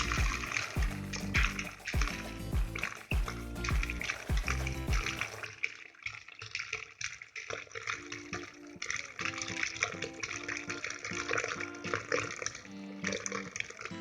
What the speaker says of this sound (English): Then you are going to pour some water in it.